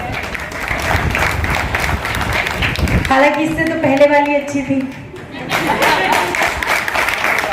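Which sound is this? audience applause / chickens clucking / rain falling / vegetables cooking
audience applause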